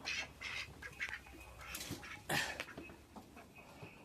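Several ducks quack in overlapping bursts nearby, with occasional clucking chickens mixed in and some rustling.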